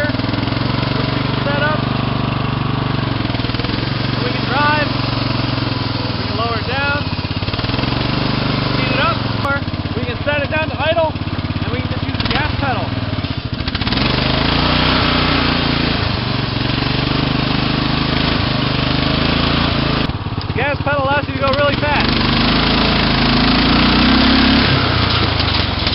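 Racing lawn mower engine running loud and close while its throttle is worked, the motor rising and falling in pitch as it revs, with someone talking over it.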